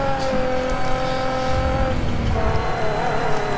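A race car in DTM Race Driver 3 drifts with tyre squeal under steady, loud engine drone, holding sustained tonal whines across the whole stretch.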